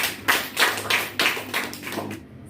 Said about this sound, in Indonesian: Nah, kelompok 1 yang sudah memaparkan hasil diskusinya, kita beri aplaus.